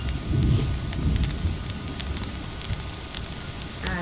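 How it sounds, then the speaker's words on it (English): Rain in the video game Green Hell patters and crackles steadily on surfaces, louder at first then settling into a softer, even hiss with scattered sharp drops. "it's gonna start raining again"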